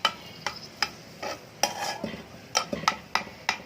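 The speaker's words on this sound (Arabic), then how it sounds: "نقلب فيها بقى لحد ما تدبل كده" A spoon stirring green beans and onions in a pan until they wilt, with a series of sharp clinks and scrapes against the pan in an irregular rhythm over a light sizzle, close by.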